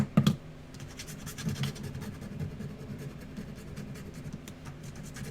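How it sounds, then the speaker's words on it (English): Scissor backs scrape across the glossy back of a cardboard food carton, a dry rasping scratch with a couple of louder strokes at the start, then a steady softer scraping that stays close and continues alone. "you probably want to scrape the back to get the glossy off of it."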